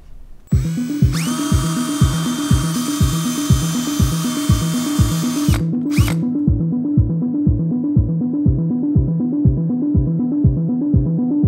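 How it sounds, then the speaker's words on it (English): A power drill whirs loudly at close range, drilling mounting-stud holes to install a Racepak digital dash. Its high whine stops after a few seconds while a steady rhythmic pulsing thump continues underneath. "We pretty much have to drill 3 holes for our mounting studs"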